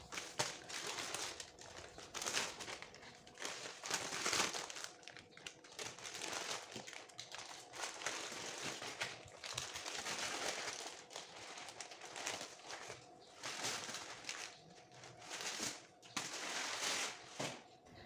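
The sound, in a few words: opening baking paper around a coffee biscuit roll cake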